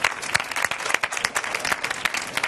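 Audience applause at a book fair talk show during La Setmana del Llibre en Català, a burst of crowd clapping with sharp individual claps standing out, close and lively.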